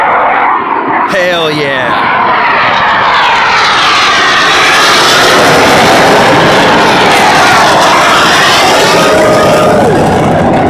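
Blue Angels jets fly over the 2017 Fleet Week Airshow in San Francisco, a loud continuous roar that swells and sweeps past overhead. Spectators shout briefly during the pass.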